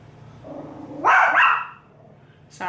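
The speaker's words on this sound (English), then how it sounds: "So sorry for the barking." A dog lets out one loud, close bark with a whiny edge, then a second sharp bark starts just as the sound cuts off.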